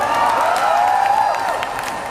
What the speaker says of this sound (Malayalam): ഒരു കയ്യടി.